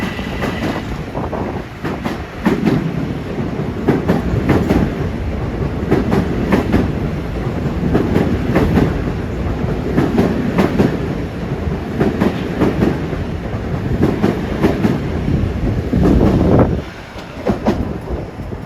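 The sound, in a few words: Long Island Rail Road commuter train passing Woodside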